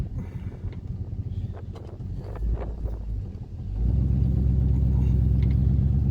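A 1973 Ford Torino drives along, its engine a low rumble with wind buffeting, then settling into a louder, steady drone as it picks up speed.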